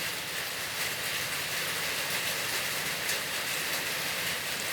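Steady, dense rain hissing continuously, loud and close with no pauses.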